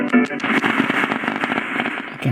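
Shortwave broadcast on 4840 kHz received on an Oncheer 2076BT portable radio: crackly, static-laden audio with fluctuating signal, heard alone at moderate loudness.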